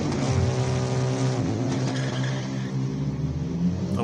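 Super Cup Polo race car engine at the Simola hillclimb, a loud, continuous high-revving drone whose pitch shifts through gear changes, close by and without talk.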